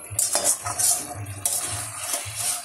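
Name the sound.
chicken being stirred and sautéed in a pan for biryani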